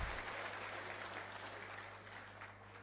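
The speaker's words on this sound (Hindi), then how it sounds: "मैं सबने कहूंगा कि जोरदार तालियां हमारे आने वाले कल के लिए बजाई" Audience clapping at a community program honouring students, faint and steady over a low hum, with the applause heard at some distance.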